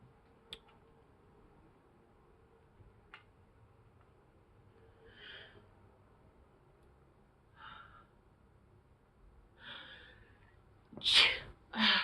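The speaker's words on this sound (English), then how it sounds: "I don't know why I'm sneezing." A person sneezes sharply near the end after several quieter breathy snorts and sniffs spread across an otherwise quiet stretch.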